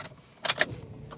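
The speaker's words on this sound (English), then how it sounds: "And just turn the key on." A car ignition key turns and jangles in two quick metallic clicks up close, followed by a faint electrical tick as the car's power comes on.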